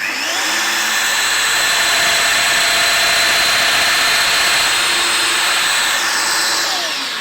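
A Festool Domino XL 700 joiner spins up and cuts a mortise into timber, a loud, steady high-pitched whine that holds for several seconds before winding down, with no talking.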